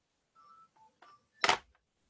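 A few short button tones from a mobile phone, faint and spaced out, ending in one louder burst, with no voices.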